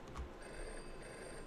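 A telephone rings inside a Japanese horror video game, a steady electronic ring held over a low ambient hum, moderately loud and without talk.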